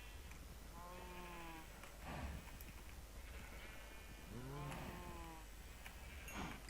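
Sheep bleating in the video game Minecraft: two wavering, drawn-out bleats a few seconds apart, clear and near, with no talk.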